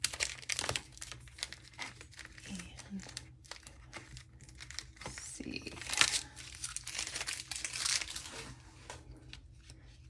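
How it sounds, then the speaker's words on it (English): Paper packaging is cut open and handled, with soft crinkling, tearing and rustling in irregular bursts at close range, and a speaking voice heard briefly. "I'm going to cut open this paper."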